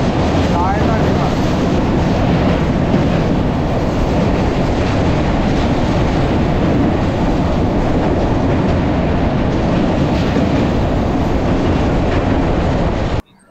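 The Kanchankanya Express, train 13149, rumbles steadily along the rails through hills, rivers and forest, a loud continuous wheel-and-carriage roar that holds unbroken for about thirteen seconds before cutting off abruptly.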